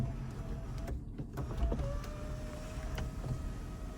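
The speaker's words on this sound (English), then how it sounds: "you have a one-touch tilt and sliding power sunroof" The power sunroof of a 2021 Toyota 4Runner Limited tilts and slides with a quiet electric motor whir that shifts pitch partway through, soft clicks marking the start and stop of travel, heard alone inside the cabin.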